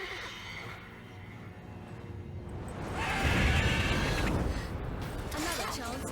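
A horse neighs in The Witcher 3 video game, a whinny rising over steady game ambience and music, loud and close around the middle of the clip.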